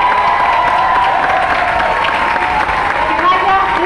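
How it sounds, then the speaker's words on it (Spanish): Press-conference audience applauding for a cast presentation, a sustained, even patter of many hands filling the room at close range with some voices mixed in. "También le doy un aplauso al elenco que está aquí presente."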